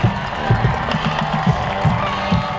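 Home crowd at a high school football game between Milan and Peabody cheers in a broad, steady roar, with swelling bursts of yelling and a marching band atmosphere, loud and close with no clear talk.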